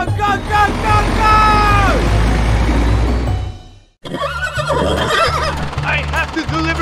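Two horses whinny loudly in a cartoonish toy-vehicle scene, a long neigh up front followed by a short gap and then more whinnies over engine-like rumble and excited voices.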